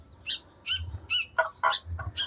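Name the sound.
sooty-headed bulbul (kutilang) calling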